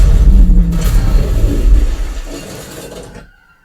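A movie explosion plays through a Dolby Atmos home theater as a heavy, booming low rumble that swells and rolls on, then decays and fades to near silence by the end.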